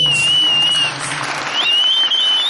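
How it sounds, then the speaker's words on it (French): A church congregation breaks into loud, sustained applause with cheering voices mixed in, and a high whistle-like tone sounds over the clapping. "Est-ce qu'on peut acclamer très fort?"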